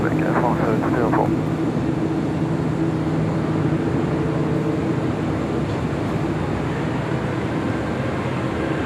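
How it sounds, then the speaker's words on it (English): A Korean Air airliner taking off from runway 25 left at LAX, a continuous distant jet roar steady throughout, with radio voices talking briefly near the start. "Korean Air Flight 18, taking off on 25 left."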